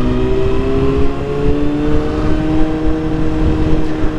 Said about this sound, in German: Und natürlich geballert wird mit dieser CBR auch.